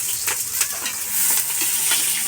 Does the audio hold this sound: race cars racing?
no